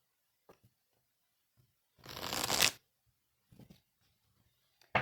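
Tarot cards shuffled and cut, a brisk riffling burst of under a second, close and clear, with soft taps of card handling before and after.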